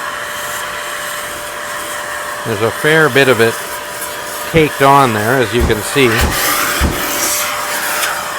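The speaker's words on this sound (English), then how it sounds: "So I'm going to go ahead and vacuum out the stovepipe adapter now while I have the vacuum out" A vacuum cleaner draws fly ash out of the oval stovepipe adapter of a coal-burning stove, a steady airy roar running continuously beneath someone talking.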